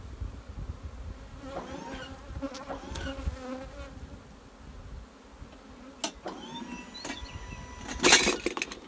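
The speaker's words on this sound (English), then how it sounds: "all the bees out of those supers will come down through that bee escape" Bees buzz steadily around a hive, close and busy, with occasional clicks and knocks of equipment and a louder clatter near the end.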